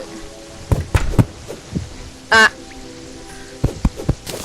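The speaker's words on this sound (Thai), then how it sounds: "โอ้ยฝนตก" Steady rain hiss from the Terraria video game fills the background, broken by sharp game sound effects and one loud burst, with a voice speaking briefly.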